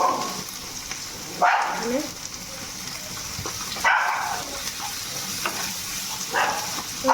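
Chopped tomatoes and green chillies fry in a pan for chicken kosha, a steady sizzle under loud scraping stirs that come every couple of seconds, close by.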